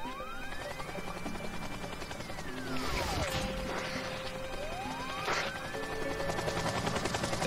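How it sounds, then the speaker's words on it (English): A helicopter in the Monsters vs Aliens video game drones through busy game audio, mixed with crashes, impacts and sweeping electronic tones. "There's that helicopter."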